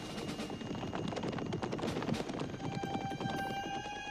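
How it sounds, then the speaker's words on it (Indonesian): Horse hooves clip-clop at a quick, steady pace in an animated adventure. The clopping is dense and fairly loud, over a constant hum with some high tonal ringing toward the end. "suara kuda."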